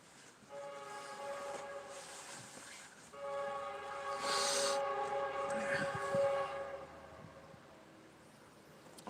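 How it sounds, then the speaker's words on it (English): A train horn blares in long sustained tones over the rumble of a passing train, growing louder toward the middle before easing off. "Train's coming."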